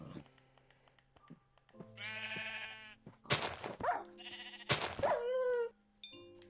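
Sheep bleating in the Minecraft video game, several wavering synthetic bleats coming in separate bursts over faint background game sounds, loud and close with no talking.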